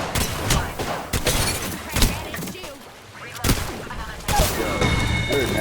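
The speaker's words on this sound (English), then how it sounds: "You're nasty with that shotgun, bro." Shotgun blasts in a first-person shooter video game, several loud, sharp bursts at irregular intervals amid dense game noise and explosions.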